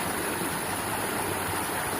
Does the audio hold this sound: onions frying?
no